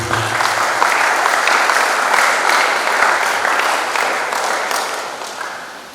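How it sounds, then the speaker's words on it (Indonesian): Audience at a Jakarta high school graduation ceremony claps for the students' parents, steady dense applause filling the hall and tapering slightly at the end. "Kita berikan aplaus kepada Bapak Ibu."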